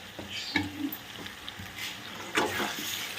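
Prawn and potato curry with Kashmiri chilli frying in a pan while it is stirred: steady close sizzle with scraping strokes and a few louder stirs, no talk.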